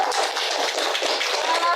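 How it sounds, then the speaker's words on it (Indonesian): A room of mothers at a family-parenting session clapping together, a brisk, continuous patter of many hands, close and fairly loud for a couple of seconds. "Oke, tepuk tangan dulu Bu."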